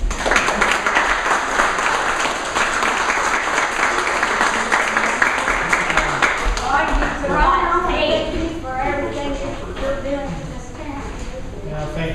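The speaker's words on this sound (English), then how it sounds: "would you give her a round of applause?" Audience applause at a grand opening day for the Birch Bayh Center, dense and sustained, fading into scattered claps with voices chatting underneath near the end.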